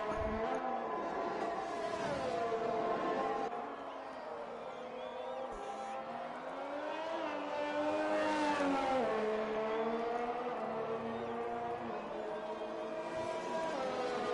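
Ferrari race car engine in a racing game, heard onboard during a qualifying lap: a steady high-pitched whine with rising and falling revs through the gears, dipping briefly as it slows, with a commentator talking over it.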